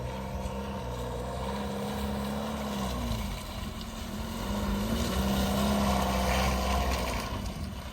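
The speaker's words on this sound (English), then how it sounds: "it's already spinning wheels" Car wheels spinning and churning through a deep, wet mud puddle on a rough track, with a steady engine drone and low rumbling that swells toward the end, no voices.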